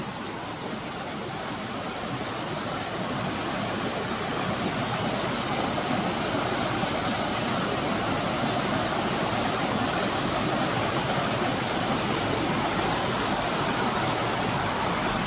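Small waterfall in nature giving a steady, loud, broadband rush of falling water that runs unbroken and close throughout, with no voices.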